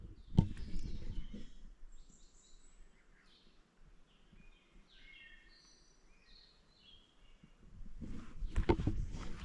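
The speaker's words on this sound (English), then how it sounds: "Can you hear the birds?" Faint birdsong chirps and trills in the distance over quiet outdoor ambience, with some rustling and handling noise at the start and end.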